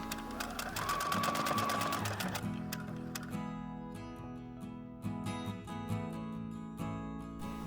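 A sewing machine stitches the wings of a cicada-shaped lavender sachet onto its body, running in a fast, close, rattling burst and then slowing to shorter intermittent runs of needle clatter.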